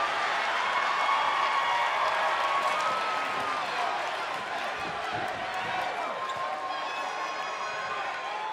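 Steady roar of an arena crowd in the WWE 2K24 wrestling game, loud and continuous throughout with a faint tonal whistle-like line near the end, no clear talking over it.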